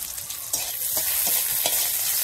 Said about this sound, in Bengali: শাকটা সাঁতলানোর জন্য কাঁচা লঙ্কা, শুকনো লঙ্কা, রসুন করে ভাজতে বসিয়ে দিয়েছি।